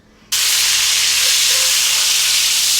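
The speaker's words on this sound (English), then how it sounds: "we are going to start browning" A beef pot roast browning in an Instant Pot sets off a sudden loud, steady sizzle that starts abruptly and holds strongly to the end.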